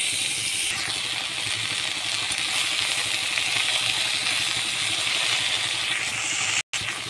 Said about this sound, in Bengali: আবার কপিগুলো আমি দিয়ে দিচ্ছি।